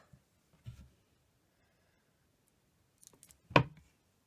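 A knife slices through a bar of cold process soap, giving one sharp, close cut near the end, with a few soft taps and handling noises before it and no talk.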